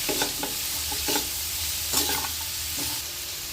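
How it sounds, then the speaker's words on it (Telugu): Vegetables sizzle and fry over high heat in a pan for egg chapati noodles, with a spatula scraping and stirring in several strokes through a steady hiss, close and fairly loud, no talking. "ఇవన్నీ కూడా కొంచెం మగ్గించుకుందాం హైలో పెట్టుకొని"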